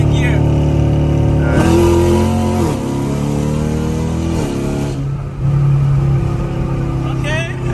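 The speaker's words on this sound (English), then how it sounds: "I'm a downshift and then I'm gonna pop it back and drive." A manual car accelerates in second gear after a downshift, its engine note climbing in a few rising sweeps with a brief dip between them, loud and close under people talking.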